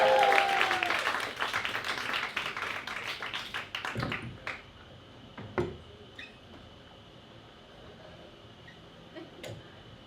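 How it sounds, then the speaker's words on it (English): Comedy club audience applauding comedian Ted Jones in New York City, a loud burst of clapping that thins out after a few seconds into scattered, sparse claps and quiet room noise. "Come on, clap, clap, clap, clap for Ted Jones!"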